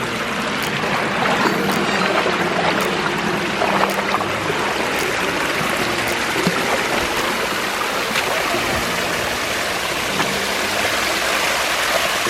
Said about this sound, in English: Big biofalls up here.